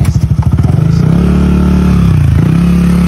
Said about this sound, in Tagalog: Paganda ng mga motor nila.